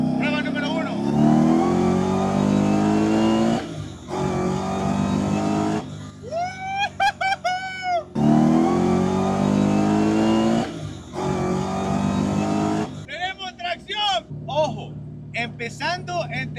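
A Nissan 350Z with a Hellcat engine swap, starting in third gear, accelerates twice, the engine note rising in pitch through each hard pull, loud and close, with voices at other moments.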